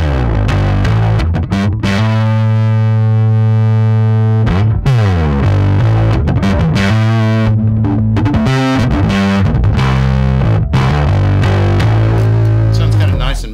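Bass guitar through a Catalinbread Giygas Fuzz pedal, loud and thick with a buzzing fuzz tone, playing sustained low notes and choppy riffs continuously and close throughout.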